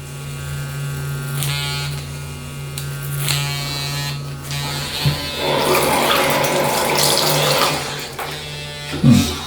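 A Gillette Fusion 5 Power vibrating razor buzzes against skin during a slow shave, a steady electric hum with scraping strokes and a few louder bumps near the end.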